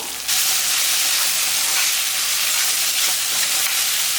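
Sliced large onions sauté in a pan with salted goat brain, a steady loud sizzle that starts abruptly and holds as broad continuous hiss with no talking.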